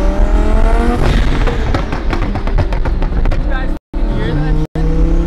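A twin-turbo Lamborghini Huracan revs hard close by, its engine note sweeping up and down. Sharp exhaust pops and crackles burst through the roar, with a couple of abrupt cutouts.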